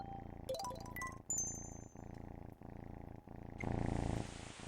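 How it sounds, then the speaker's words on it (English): A cat purring in the video game Kura5, a steady low rumble with evenly spaced pulses under game music, chimes and tinkling effects, with a burst of louder noise near the end. "Is that the kitty cat?"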